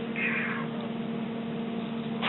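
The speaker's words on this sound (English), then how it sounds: "is that a cat? Oh, yes," A pet cat meows in a room during a cross-stitch session, with a steady low hum underneath and the cry standing out briefly near the start.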